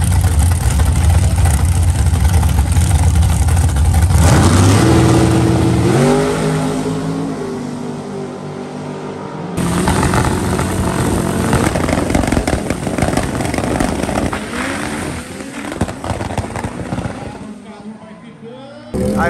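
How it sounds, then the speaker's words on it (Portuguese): Drag-racing motorcycles at Velopark, including a Kawasaki H2 and Suzuki Hayabusa, with loud engines revving hard and climbing through gear changes as they launch, then fading into a distant roar while a person talks over the noise. "Pessoal, semifinal das motos aqui, ó."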